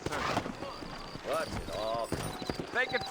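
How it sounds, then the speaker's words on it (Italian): Horse hooves clip-clopping in the Red Dead Redemption game as the rider mounts up, short rhythmic hoof beats mixed with game voices and someone talking over them. "Allora, monto a cavallo."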